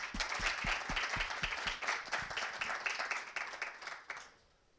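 An audience at an AI ecosystems panel session breaks into steady applause to welcome the panelists, with dense rhythmic clapping from a medium-sized crowd that carries on for several seconds before fading out.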